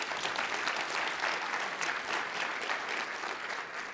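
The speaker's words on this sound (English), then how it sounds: "Let's give him a round of applause" Conference audience at a Google Cloud Next session applauding a speaker, a soft, even wash of many hands clapping heard from a distance, sustained for the whole stretch without talk.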